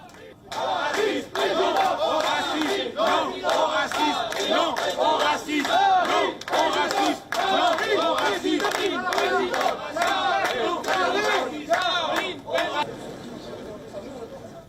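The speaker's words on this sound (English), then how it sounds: "she was welcomed with cheers and applause" A large political rally crowd in the northern French town of Vernon cheers and chants for Marine Le Pen, loud rhythmic collective shouting sustained throughout before fading slightly at the end.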